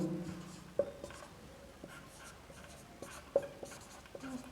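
Handwriting on a board or paper comes through as soft scratchy strokes with a few sharp taps, close by, alongside faint background noise while a teacher explains microorganisms.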